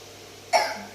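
A dog coughs once while eating, a single short, close hacking burst with a brief rasp that trails off in an otherwise quiet room.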